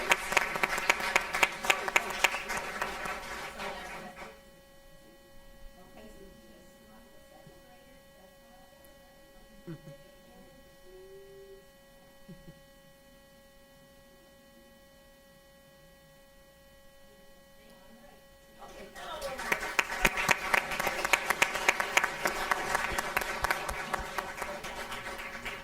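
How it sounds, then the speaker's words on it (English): Third graders are applauded at a school board meeting: a burst of clapping at the start, then a long quiet stretch with electrical hum, then a second round of clapping near the end. "if we could give our third graders one more round of applause"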